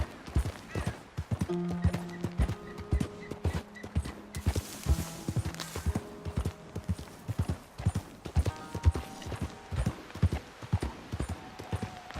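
A horse's hooves clip-clop in a steady trotting rhythm in the open-world Western game Red Dead Redemption 2, with faint tack creaks and a brief whoosh partway through, continuing for the whole stretch without talk.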